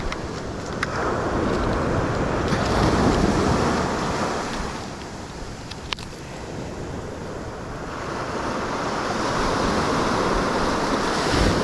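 Tidal sea water surges and washes near a fishing spot as the tide rises, a continuous close rushing roar that swells and eases, mixed with wind buffeting the microphone. No one speaks.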